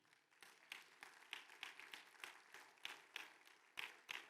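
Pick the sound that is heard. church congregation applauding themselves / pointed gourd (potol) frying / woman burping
church congregation applauding themselves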